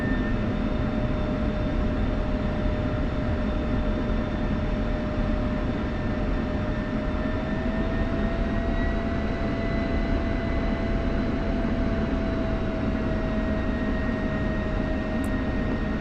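An F-16 jet taxiing on a runway in the DCS flight simulator, a steady, unbroken engine whine and rumble with a faint high tone, constant in level throughout.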